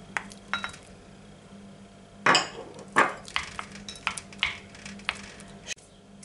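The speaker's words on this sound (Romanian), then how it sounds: "O să le amestec cu lingura de lemn." Banana face-mask mixture stirred with a wooden spoon in a bowl: soft scraping and knocking strokes, a few sharper taps against the bowl, irregular and close, with no talking.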